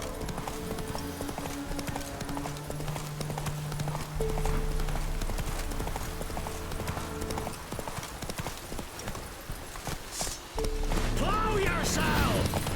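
Roach the horse from The Witcher 3 gallops with fast, continuous hoof clip-clop, loud and close over game music, with a brief neigh near the end.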